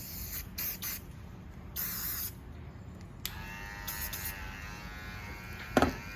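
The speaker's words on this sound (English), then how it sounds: "clipper spray just to sanitise and protect it." Clipper spray is squirted onto running hair clippers in short hissing bursts, several brief sprays over the steady buzz of the clipper motor, close up and quiet, with no talking.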